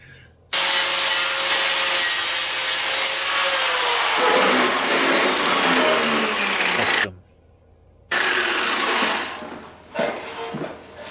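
Fine 16,000-grit sanding on metal to take off discoloration: loud, close, continuous rasping friction that runs for about six seconds, cuts out briefly, then resumes in shorter bursts.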